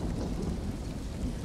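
Steady heavy rain with low rolling thunder fills a dark, stormy weather scene on a grassy, Earth-like planet in the video game D.R.O.N.E, a dense continuous wash with no gaps.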